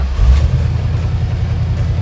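The engine of a 1971 Dodge Challenger rumbles low and steady, close by, a deep idle settling in just after it fires up.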